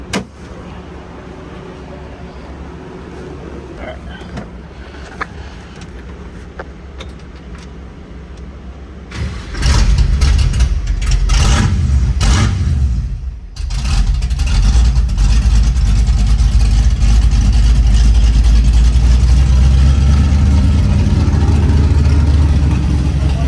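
A 1965 Malibu engine with twin TorqStorm superchargers and the intake manifold fitted, quiet at first, then cranks and fires up loudly, stumbles briefly, and settles into a steady, powerful running roar close by.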